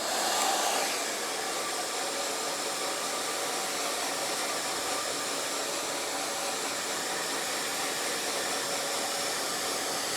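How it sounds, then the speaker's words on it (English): A hair dryer blow-drying bangs forward over a vent brush, a loud, steady, close whoosh that runs unbroken the whole time, with a slight surge right at the start. "Take your vent brush and blow dry everything forward."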